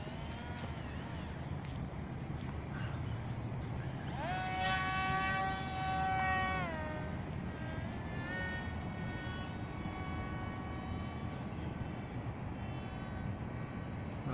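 A small RC mini delta wing plane's electric motor whines at full throttle, a steady high-pitched tone that rises sharply, holds loud for a couple of seconds, then settles into a fainter, even drone over outdoor background noise.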